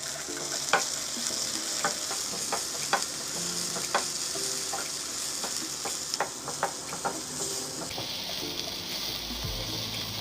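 Green chili and chopped tomato fry for a spicy mushroom biryani, giving a steady close sizzle with clinks of a stirring spoon scattered throughout, the sizzle dropping off near the end.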